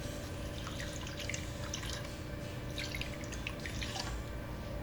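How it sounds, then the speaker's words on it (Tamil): Water trickles and drips from a tumbler into rava dosa batter of semolina with curry leaves, coriander and ginger, a quiet, irregular splashing and dripping close by. "மொத்தம் இதுக்கு 6 டம்ளர் தண்ணி சேர்த்துருக்கேன்."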